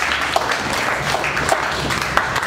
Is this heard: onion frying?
no